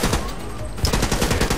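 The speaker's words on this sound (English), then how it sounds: "There we go, assault rifle." Rapid bursts of assault rifle fire in the shooter game The Club, dense repeated shots filling the short stretch at steady loudness with no speech over them.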